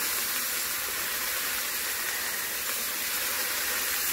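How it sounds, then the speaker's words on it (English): Pork chops sear in a hot pan, a steady loud sizzling hiss that stays even and continuous throughout. "before completely flipping them, I am making sure that I get all these sides seared"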